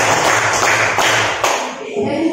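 A class of ninth-grade students claps in a counted pattern, with several sharp group claps in close succession over a steady classroom murmur.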